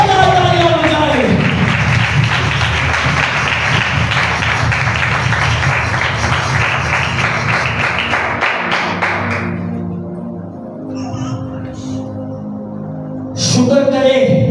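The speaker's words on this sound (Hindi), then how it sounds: "आओ जी उठे यीशु के लिए जोरदार तालियां बजाएं, जोरदार तालियां बजाएं।" Loud, sustained applause from a church congregation at a Resurrection Day service, dense clapping with some voices that fades after about nine seconds, leaving quieter room sound and a brief noise at the end.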